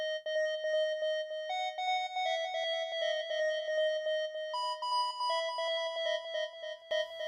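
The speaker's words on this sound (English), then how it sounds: "I got this reed preset and just made this little pattern" A reedy synthesizer preset melody in FL Studio plays steady sustained notes with a fast rhythmic pulse, shifting pitch a few times before a brief noisy burst at the end.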